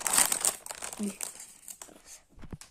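Plastic bag crinkling in bursts, loudest at the start and fading, with a brief rustle near the end; a voice is briefly heard.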